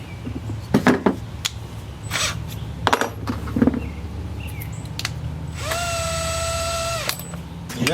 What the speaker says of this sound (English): I'm actually thinking about drilling those rivets too